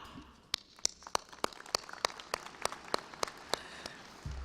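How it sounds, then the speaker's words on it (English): Sparse, widely spaced claps from audience members in an auditorium during a Sam Houston State University spring commencement, a dozen sharp distant pops at a steady pace over quiet room noise. "Friends and family members, you are encouraged to clap"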